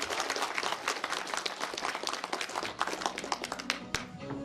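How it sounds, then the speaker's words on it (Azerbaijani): Loud, sustained applause from a large audience at a film premiere, a dense continuous wash of many hands clapping with one sharper clap near the end. "Gürültülü alqışlar səslənir."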